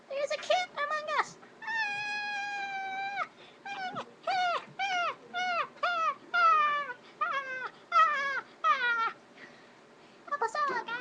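A string of about a dozen loud, close cat meows, some drawn out and wavering, others short and clipped, coming one after another with brief gaps between them, against a faint background.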